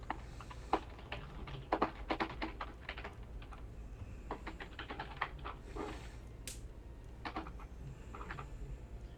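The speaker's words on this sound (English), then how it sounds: "You're typing?" Rapid bursts of computer keyboard typing, close and crisp, with short pauses between clusters of keystrokes and a faint whoosh partway through, no voices over it.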